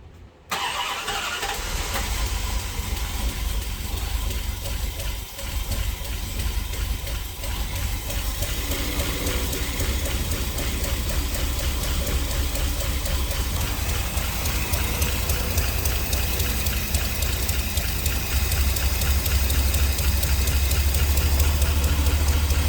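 An old car engine with a rebuilt carburetor, fresh after a suspension rebuild, cranks and catches, then runs on as a loud, rough, continuous idle close by.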